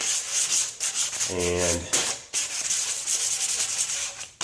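Sandpaper rubbing across an oxidized plastic headlight lens: loud, close, continuous back-and-forth scrubbing strokes, with one brief spoken word partway through.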